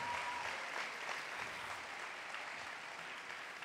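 Crowd applause at the Vetla festival at the Santuari de Lluc sanctuary in Mallorca, a dense, continuous wash of clapping that fades slightly toward the end.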